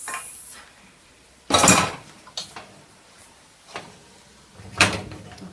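Brown rice tipped into a stir-fry pan gives a loud, brief rushing clatter, then a few scattered knocks and scrapes of a utensil against the pan, ending with another sharp clatter.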